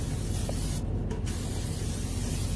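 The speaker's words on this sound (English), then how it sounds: "I'm going to give it a quick non-stick cooking spray." A steady hiss of non-stick cooking spray from an aerosol can onto a pan, continuous and close, with a brief pause in the middle.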